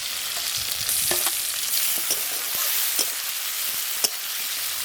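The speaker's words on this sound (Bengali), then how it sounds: "এবার টমেটো কুচিগুলো দিয়ে দেবো আর একই সঙ্গে রসুন বাটাও দেবো" Chopped tomatoes and garlic paste fry in a pan with a loud, continuous sizzle close by, marked by occasional spoon taps and scrapes.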